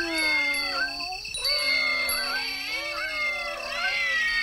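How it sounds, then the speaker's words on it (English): Several cats meowing and caterwauling in drawn-out, wavering yowls that overlap continuously, loud and close, like a standoff before a fight. "Are these cats trying to pick a fight or something?"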